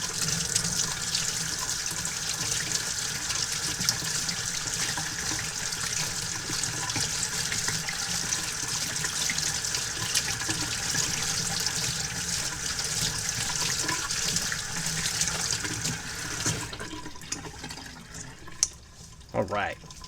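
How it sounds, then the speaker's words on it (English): Steady water from a tap running continuously while gray wool Nike Foamposite Pro shoes are rinsed by hand, close and loud, cutting off near the end with a few small knocks. "now I'm going to hand rinse them the rest of the way"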